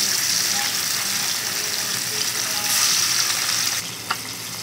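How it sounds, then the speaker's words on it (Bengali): Fish pieces fry in hot oil with a loud, steady sizzle that softens slightly near the end, where a small clink is heard. "এখন আমি মাছের পিসগুলো দিয়ে দিচ্ছি মাছের পিসগুলো এভাবে বেজে নিতে হবে"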